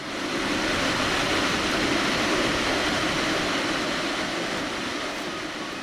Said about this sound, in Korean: 유럽에서 가장 강력한 폭포 데티포스로 향했습니다